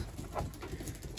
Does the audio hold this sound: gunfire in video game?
no